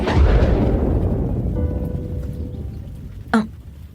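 A thunder sound effect for strong lightning begins with a heavy, close boom that rolls and slowly fades over a few seconds, ending in a short sharp crack near the end.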